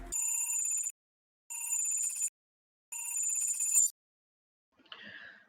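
A telephone bell rings three times in even bursts with short silences between, followed by a faint, brief rustle.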